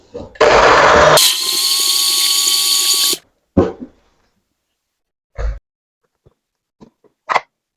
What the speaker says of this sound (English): Then blend for 15 seconds.